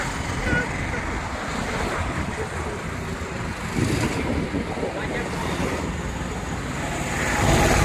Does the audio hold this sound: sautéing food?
no